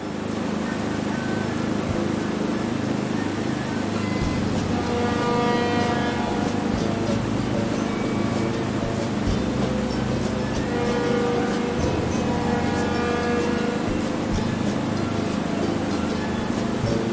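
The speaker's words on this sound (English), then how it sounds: "बहरी जहाज," A ship gives off a continuous low rumble with a wash of water noise, steady and unbroken throughout, with faint tonal swells rising above it now and then.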